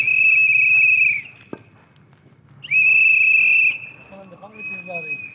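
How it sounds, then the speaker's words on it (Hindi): Two long, loud, steady whistle blasts from a security team leaving a ceremony, each held about a second, separated by a pause filled with faint background voices and bustle. "सीटी बजाते हुए सूर्या"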